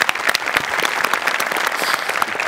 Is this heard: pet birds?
no